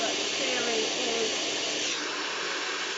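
A handheld hair dryer blows a steady, close airy hiss while hair is smoothed down its length with a brush during a blow-dry, the heat moved up and down; the tone shifts slightly partway through and no one speaks.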